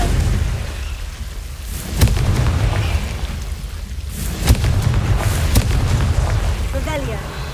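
In the game Hogwarts Legacy, the Confringo blasting spell sets off sharp explosive booms, with one hit near the start and another a couple of seconds later, over rumbling game ambience and voices.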